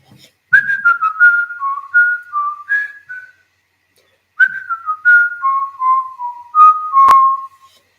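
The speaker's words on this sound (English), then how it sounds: "That's called whistling." A person whistles a wandering melody in two phrases separated by a pause of silence, clear and close.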